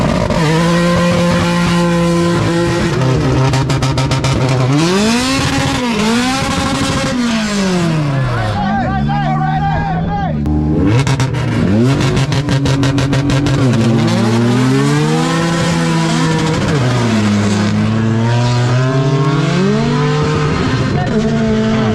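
Two Honda EG hatchbacks on nitrous, one J-series and one K-series, drag racing in a front-wheel-drive shootout final: loud engines rev and scream through rising and falling gear pulls for the whole stretch, with crowd or announcer voices mixed underneath.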